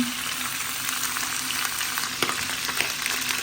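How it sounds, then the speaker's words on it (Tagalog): Chicken pieces frying in a hot pan for a sautéed chicken and cabbage dish give a steady, loud, close sizzle that runs the whole time, with a few sharper pops and crackles near the end. "priniprito ko muna bagya yung ating chicken"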